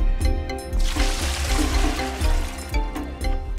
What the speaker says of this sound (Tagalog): Pero ang tubig na kanyang ibinuhos, sinasahod pa rin ni Aling Imelda sa maliit na planggana